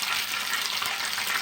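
Pabda fish frying in oil in a pan, a steady close hiss and crackle of sizzling that runs unbroken throughout.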